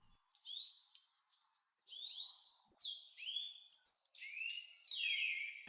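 Recorded birdsong plays back at a slider-controlled speed in a p5.js browser sketch: a string of bright, quick chirps and descending whistled trills, clear and alone against near silence.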